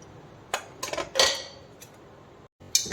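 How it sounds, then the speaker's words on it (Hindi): Metal clatter and scrapes as the lid comes off a pressure cooker holding cooked bajra after five whistles, with a few short clanks and a brief pause before a last sharp knock. "अब हम कुकर का ढक्कन हटाकर"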